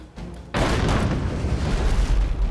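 A ship's cannon battery fires in the naval combat game Abandon Ship: a sudden heavy boom after a short quiet lead-in, followed by a sustained roaring rumble of blasts and debris.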